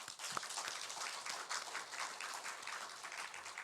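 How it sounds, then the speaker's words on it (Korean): Church congregation applauding during a Sunday worship service, a steady wash of many hands clapping for several seconds at a moderate distance, with no talk over it. "다시 한번 우리 축하의 박수."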